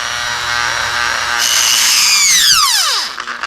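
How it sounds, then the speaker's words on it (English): A Dremel rotary tool cleans a corroded contact inside an old car's fuse box, giving a loud, close, high whine that spins up and then winds down sharply near the end, with no talking. "you just take your Dremel or a similar tool with whichever end is going to work for you"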